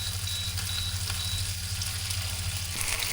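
Food sizzles steadily in a hot pan as a fish and egg dish is stir-fried, a constant close frying hiss with no talk.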